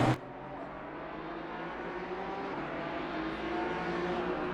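A TVR Ginetta race car in a racing video game accelerates hard, its engine holding a steady droning whine that climbs gradually in pitch, heard alone after a brief thump at the start.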